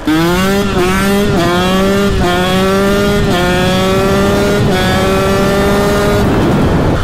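A KTM SX 125 two-stroke motocross bike with a VM Racing setup revs hard and loud up close, its engine note rising and dropping in about six repeated throttle blips that ends in a brief lull.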